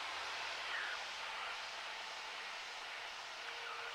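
A Cessna 152 light aircraft engine, throttled back to 1500 rpm, drones steadily and fairly quietly as a broad hiss-like hum heard from inside the cockpit, with no talking.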